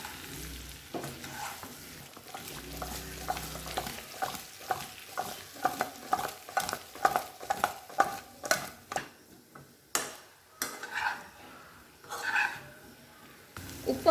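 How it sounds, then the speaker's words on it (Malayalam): Tapioca (kappa) with chilli and turmeric is stirred in a pan, a spoon scraping and clacking in irregular bursts over a faint sizzle, close and moderately loud, with no one talking. "ഇതിലേക്ക് നമുക്ക് നമ്മുടെ കപ്പ ഇട്ട് കൊടുക്കാം. എല്ലാം കൂടി നന്നായിട്ട് ഇളക്കി യോജിപ്പിക്കാം."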